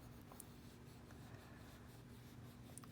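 A sharp pencil shades a sphere on paper in a faint, continuous close scratching, steady soft strokes with no voices.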